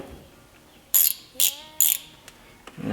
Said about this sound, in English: So here's your ratcheting mechanism here.